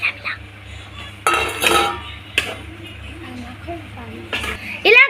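Fried gobi manchurian cauliflower being stirred into gravy in a metal pan, with a few loud scraping clinks of a spoon against the pan between quieter moments of soft bubbling, and someone talks over it.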